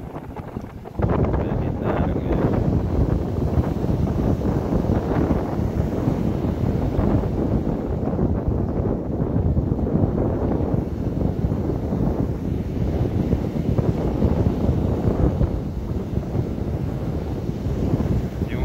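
Heavy, continuous roar of rough sea waves and wind buffeting a fishing boat, loud and steady throughout with no pauses.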